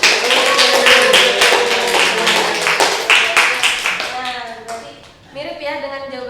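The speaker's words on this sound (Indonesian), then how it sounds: "Tepuk tangan dong untuk minasan." A class in a Japanese-language microteaching lesson claps for the students, brisk clapping over the first part that thins out, mixed with a teacher's voice talking and some chatter near the end.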